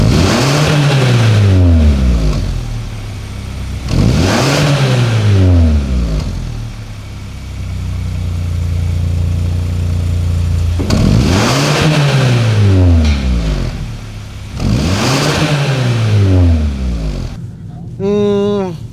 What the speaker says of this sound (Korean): 뭉하는 그런 배기음이 들리거든요